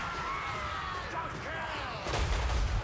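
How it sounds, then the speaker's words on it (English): Heavy explosions from a bombing run in the strategy game Total War: Warhammer 3 boom loudly near the end, after a stretch of continuous battle din with rumbling impacts and clatter. "I do send in a bombing run here"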